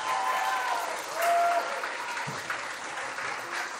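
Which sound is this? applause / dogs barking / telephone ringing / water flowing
applause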